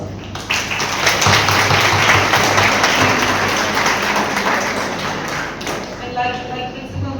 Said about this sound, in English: Let's give a full round of applause to all the performers.